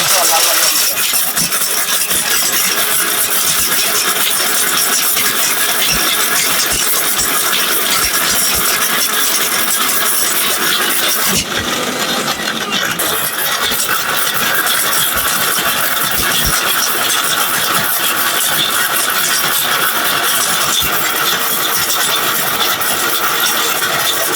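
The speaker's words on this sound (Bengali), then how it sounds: "আর রিকোর ব্লেন্ডারের মধ্যে আপনারা হলুদে করবেন।" A RICCO blender grinds turmeric, its motor roaring loud and constant for the whole stretch with a rattling edge and a brief dip partway through.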